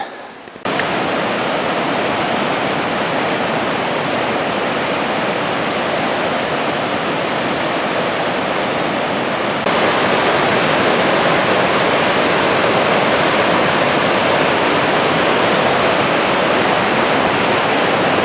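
Constant loud rush of the fast-flowing Ohanapecosh River close by at Mt. Rainier National Park, a dense steady roar that grows slightly stronger midway, with no voices.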